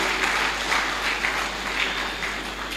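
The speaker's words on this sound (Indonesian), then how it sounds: "boleh beri tepuk tangan kemuliaan buat Tuhan" A church congregation claps together in sustained, dense applause during a Sunday worship service, steady and fairly loud throughout with no voices rising above it.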